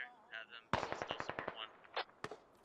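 Automatic gunfire in a military video game crackles in a quick burst of about a dozen sharp, evenly spaced shots, followed by a couple of single cracks, with a voice talking briefly just before.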